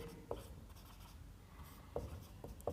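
Pencil or pen scratches faintly across paper while a maths solution is written out, with a few brief, soft strokes spread over a quiet background and no speech.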